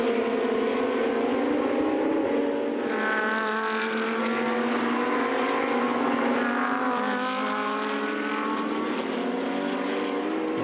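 GT2 race cars at Dijon, a KTM ahead of two Audis, roar past with high, sustained engine notes that rise and shift through the gears as they pass, loud and continuous.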